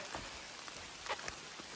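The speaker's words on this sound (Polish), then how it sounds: "Zaczęło jeszcze mocniej padać, ciężko będzie mi się przebrać." Heavy rain falling outdoors near a high-altitude mine in Europe, a steady close patter of drops striking surfaces with a few louder individual hits, no speech.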